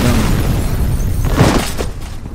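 In the video game F.E.A.R., an explosion booms with a heavy, close blast and rumbling wash of debris that fades over a couple of seconds, loud and alone.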